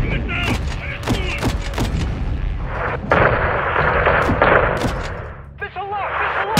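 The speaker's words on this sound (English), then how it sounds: "Taking fire from the south!" Gunfire in Call of Duty Modern Warfare II: rapid loud shots and cracks in quick succession, then a dense rumbling barrage of heavier fire, with shouted voices in the mix.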